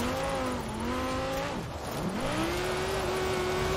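A car in a video game drifts, its engine revving and whining, then dropping sharply and climbing again in steady, close, continuous sound.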